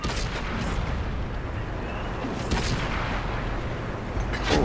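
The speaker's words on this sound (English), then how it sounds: "Hello, someone just shot me." Tank cannon fire in the World of Tanks game, heavy booming shots over a constant dense rumble of battle, with a sharper blast near the middle and another at the end.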